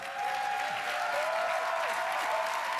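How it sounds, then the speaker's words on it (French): A television studio audience breaks into loud, continuous applause that swells in right away and holds steady as a dense, even clatter of clapping hands. "C'est la tour infernale sous les applaudissements d'un public en délire."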